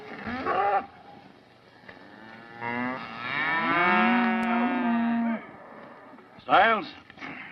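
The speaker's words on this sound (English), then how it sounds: "Put the cattle on the bedding ground." Cattle moo in a 1936 western film, with several long, loud lowing calls, one short call at the start, a drawn-out bellow in the middle and another brief moo near the end.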